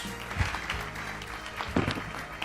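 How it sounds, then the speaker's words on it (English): Audience applause for a new inductee at the Kansas Sports Hall of Fame ceremony, a ragged round of clapping from a hall crowd, moderate and steady with a few louder bursts. "Ladies and gentlemen, one more round of applause for our latest Hall of Fame inductee, Lonnie Cruz."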